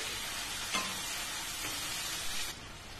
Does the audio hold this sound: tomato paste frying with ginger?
yes